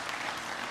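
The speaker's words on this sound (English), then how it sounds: "If we can please have a hand of applause for them" Graduation ceremony audience gives a brief burst of applause, a dense, even wash of clapping heard for well under a second.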